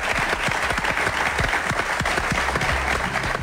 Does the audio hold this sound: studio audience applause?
yes